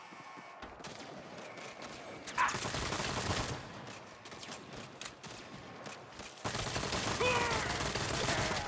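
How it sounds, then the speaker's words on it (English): Bursts of rapid gunfire in a video-game prison shootout in Saints Row, crackling in clusters with gaps between, while a man gives a short exclamation. "I mean shoot my way out."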